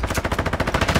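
A sentry gun in the DMZ shooter game fires one unbroken burst of rapid, evenly spaced automatic shots, loud and close, with no voices.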